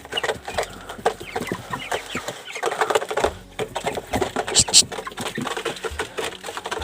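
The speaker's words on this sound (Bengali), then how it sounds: "মুরগির সাউন্ডটা খুব জোরে আসছে।" Chickens cluck and squawk close by while being fed, with rapid, uneven bursts and scratchy patter from the flock; a person talks intermittently among them.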